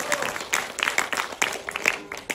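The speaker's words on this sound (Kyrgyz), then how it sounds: "Кол чабуулар болсун" Short burst of scattered audience clapping at a komuz concert, a handful of distinct claps from a modest crowd close by.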